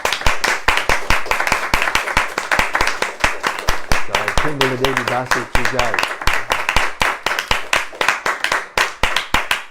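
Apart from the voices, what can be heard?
audience clapping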